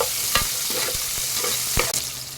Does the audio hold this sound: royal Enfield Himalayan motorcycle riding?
no